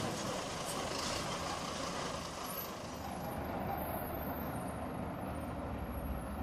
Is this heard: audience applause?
no